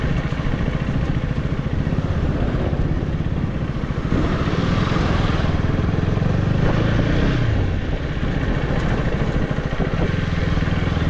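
A sports motorcycle with ABS rides along the rough, badly damaged Kalyan–Murbad road, its engine droning steadily and loudly throughout with constant rumble and road clatter.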